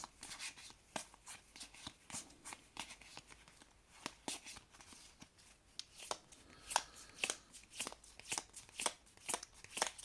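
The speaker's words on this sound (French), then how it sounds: "On va mélanger un petit peu les cartes." Playing cards for the board game Warp's Edge are shuffled quietly and close by, a string of soft snapping riffles and papery flicks that gets a little louder toward the end.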